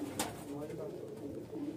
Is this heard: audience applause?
no